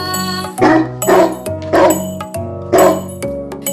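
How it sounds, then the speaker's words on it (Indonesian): A dog barks four times in an even rhythm, each bark clear and close, over a light musical backing. "Suara anjing"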